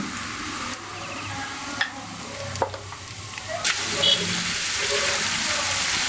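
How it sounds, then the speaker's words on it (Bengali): Marinated beef sizzles and hisses steadily in a pan of frying onions for a spicy Bengali beef bhuna, with a few clinks and stirring scrapes over a continuous frying crackle. "আমি এখন এখানে ম্যারিনেট করা মাংসটা দিয়ে দিব"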